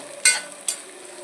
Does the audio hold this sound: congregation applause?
no